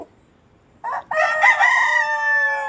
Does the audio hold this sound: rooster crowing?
yes